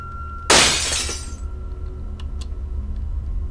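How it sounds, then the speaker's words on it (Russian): Glass shatters loudly in the Seven Mysteries video game, a single sharp crash with tinkling shards fading over about a second, followed by a quiet hum and a couple of faint clinks. "Звук бьющегося стекла?"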